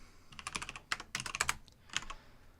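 Typing on a computer keyboard while coding a web app, with quick clusters of close key clicks in uneven bursts, a pause, then a few more taps; no talk.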